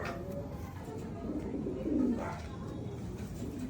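Racing pigeons from a club fun race coo softly and continuously, a low murmuring under faint background noise, with one slightly louder swell of cooing near the middle.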